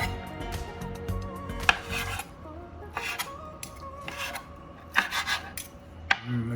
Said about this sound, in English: we're gonna cut the tocino in little pieces so that way they can go into the taco